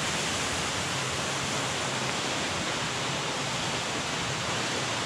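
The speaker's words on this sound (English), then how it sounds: "All these waterfalls within, what have we gone, maybe 3 miles?" Waterfalls along the Trail of Ten Falls at Silver Falls, Oregon, roar in a dense, steady wash of rushing water that fills the whole stretch without a break and with no voices.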